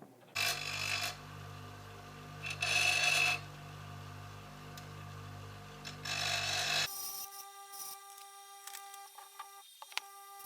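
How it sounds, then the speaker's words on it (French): A hand file rasps along the edges of metal to form a small chamfer, in three close, scraping strokes separated by short pauses, followed by quieter light clinks and handling noises. "je lime les bords et je réalise un petit chanfrein pour pouvoir accrocher la soudure"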